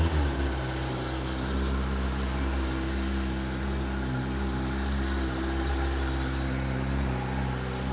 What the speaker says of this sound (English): let's go ahead and get this motorcycle warmed up